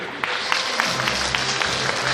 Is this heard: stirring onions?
no